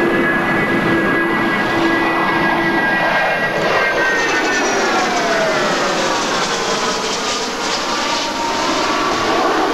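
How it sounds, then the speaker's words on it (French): A Swissair Fokker 100 jet airliner flies past at an air meeting in Yverdon, its steady engine roar loud and continuous with a whining tone sweeping downward as it passes. "ce Fokker 100, dernière acquisition de la Swissair"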